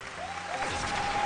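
A studio audience on a Chinese dating show claps in a short, even burst of applause, sustained and moderately distant, with a faint tone sounding over it.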